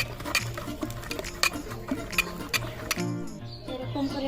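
Spoon or whisk stirring malpua batter in a bowl, with repeated clinking scrapes against the sides in a steady rhythm, close and clear.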